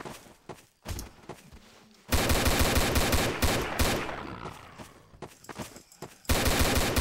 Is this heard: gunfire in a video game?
yes